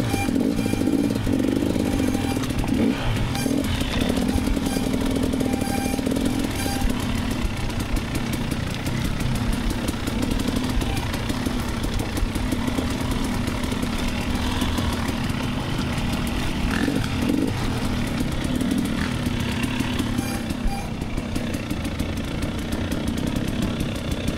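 A 2024 Kawasaki KX 450 dirt bike at an off-road trail ride, its engine droning steadily and loudly throughout, with a continuous mid-low rumble that holds fairly even rather than swelling sharply as it passes.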